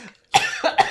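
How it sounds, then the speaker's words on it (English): A man coughs up close in two or three quick harsh bursts, short and loud, alone. "making him cough over here"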